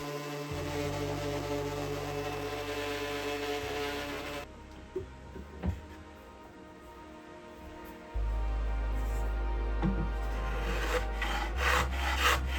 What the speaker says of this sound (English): as I continued to sand, I could start to see the shine on the brass and resin coming up nicely